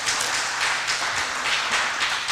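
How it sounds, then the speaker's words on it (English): An audience at the Shelton Mason County Chamber candidates' forum gives the candidates a round of applause, a close, steady patter of many hands clapping with no voices. "Let's give them all a round of applause."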